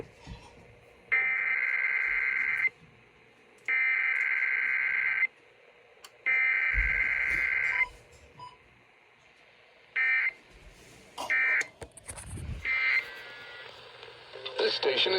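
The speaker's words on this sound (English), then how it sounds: "This station is testing its emergency alert equipment." Emergency Alert System test on KDKA radio: three loud, harsh buzzing header bursts with short gaps, followed by a shorter burst and a brief garbled data squeal, heard over radio static.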